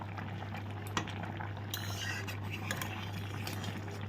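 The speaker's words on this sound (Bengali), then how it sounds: "লাউ ডোকার তরকারিটা অনেক ফুটে গেছে" A pot of bottle gourd stem curry boils on the stove with a soft continuous bubbling and simmer, with occasional light clinks of a utensil against the pan.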